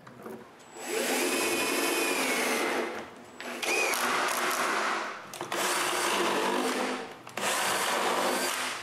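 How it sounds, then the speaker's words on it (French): A power drill drives screws into plywood, fastening glued wooden wings in place for a tablet built for an X-Carve machine. There are four sustained, loud whirring bursts with brief pauses between them. No speech. "j'ai juste à coller et à visser les ailes en place"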